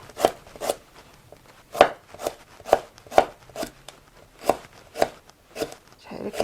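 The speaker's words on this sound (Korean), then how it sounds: "통으로 된 이 인삼을 이렇게 떡국 썰기를 해주시면 됩니다" A knife cuts whole ginseng root into rounds about 3 mm thick on a cutting board, giving about a dozen sharp, evenly spaced chops, each with a brief ringing thud.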